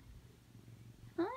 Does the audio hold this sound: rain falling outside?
no